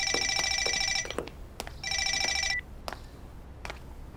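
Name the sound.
telephone ringing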